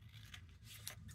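Scissors trimming paper for a craft page make a few soft, faint snips close by, heard alone.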